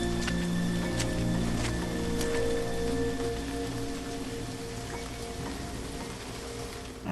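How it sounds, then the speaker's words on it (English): Continuous heavy rainfall in Remothered: Tormented Fathers, a dense steady patter with a few brief drip-like ticks and a faint low rumble, alone without voices. "It's raining."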